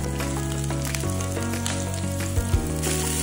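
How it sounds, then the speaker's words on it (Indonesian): Garlic, ginger, red chili and scallion sizzling in hot oil, a close, steady crackling fry with a few louder pops and stirring clatters partway through. "Kalau minyaknya udah panas, kalian bisa masukkan bawang putih, jahe, cabai merah,"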